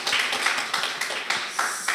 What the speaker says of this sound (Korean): 우리 박수로 모두를 환영하도록 하겠습니다.